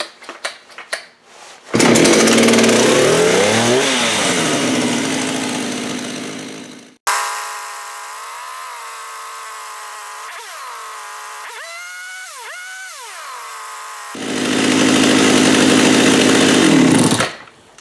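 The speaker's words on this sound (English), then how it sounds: "Now I don't like this idle, so I gotta figure out why it's got a high idle on it." A Husqvarna 372xp chainsaw engine with a high idle, rebuilt with new main bearings: loud, close running that surges and holds, drops to a quieter uneven idle with wavering pitch, then revs loudly again.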